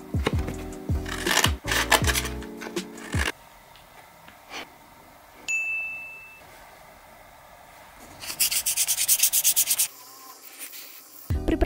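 Sandpaper rubs against a homemade YouTube play button in bursts of loud, close, scratchy strokes, separated by quieter pauses, with a brief electronic beep in the middle and no speech.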